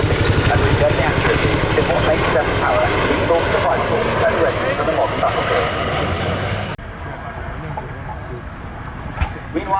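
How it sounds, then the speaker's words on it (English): An RAF Chinook helicopter flying a display at Cosford Airshow, its twin rotors making a loud, continuous, throbbing roar that cuts off abruptly partway through, with a commentator talking over it. "Chinook is a remarkably resilient aircraft"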